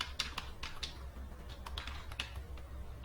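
Rapid clicking of a computer keyboard as a web address is typed, a quick run of light key taps with an uneven rhythm, close and fairly quiet, with no talking.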